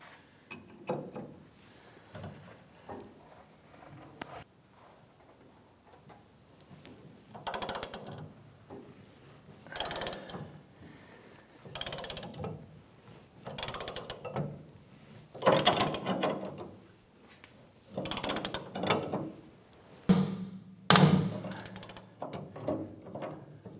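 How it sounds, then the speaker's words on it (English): A wrench ratchets on a leaf spring shackle bolt of a 1994-2004 Chevrolet S-10, giving repeated bursts of close metallic clicking with short pauses between strokes, growing louder and busier toward the end, with no talking. "I'm going to go ahead and put a wrench on the other side here."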